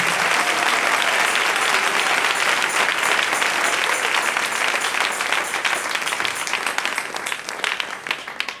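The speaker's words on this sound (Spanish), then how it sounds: "Dele ese aplauso al Rey." Church congregation applauding during a sermon, a loud sustained wash of many hands clapping that slowly tapers toward the end, no speech over it.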